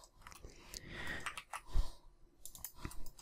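Computer mouse clicks during drafting software work, heard as soft, close, irregular clicks. Some light rustling noises are mixed in and no one speaks.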